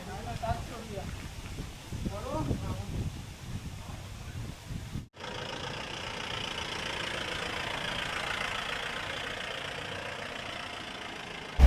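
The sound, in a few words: Mahindra Bolero engine running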